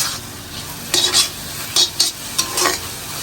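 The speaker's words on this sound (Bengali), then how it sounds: "আর এখানে যে শাক ভাজি করে দিচ্ছি।" Leafy greens being fried and stirred in a pan, a constant sizzle broken by several scraping stirs of a utensil against the pan.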